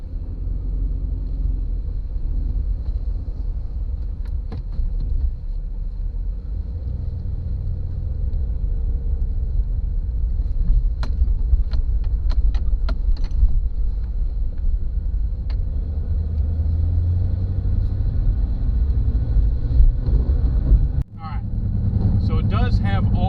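A 2006 GMC Envoy cruising at the speed limit gives a steady low engine and road rumble throughout, with a brief sharp clunk near the end.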